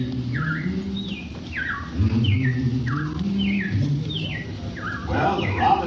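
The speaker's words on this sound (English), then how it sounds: "Well, the robins are back." Repeated bright descending robin chirps in a steady series over a low background hum, with a busier burst of calls near the end.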